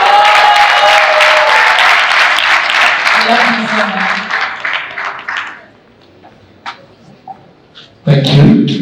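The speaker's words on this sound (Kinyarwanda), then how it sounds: "Twabaha amashyi menshi cyane." An audience at an award ceremony claps in loud, dense applause that fades out after several seconds, and a voice speaks briefly as it ends.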